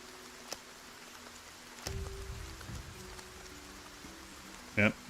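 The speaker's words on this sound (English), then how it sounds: "Does this actually keep you guys out of the rain?" Steady rain patters softly in the video game Dungeon Settlers, a faint continuous hiss broken by a few brief louder clicks and a short burst near the end.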